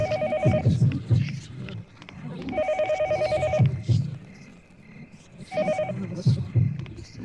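A telephone rings repeatedly in the Yomawari: Midnight Shadows video game, bursts of bright electronic trilling recurring about every three seconds over dark, rumbling game ambience and a talking player.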